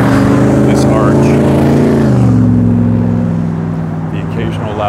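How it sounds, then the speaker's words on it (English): A loud car sweeps past on a busy road near a freeway interchange and pedestrian arch, its engine note rising then dropping as it goes by, close and prominent for several seconds. "The occasional loud car coming by."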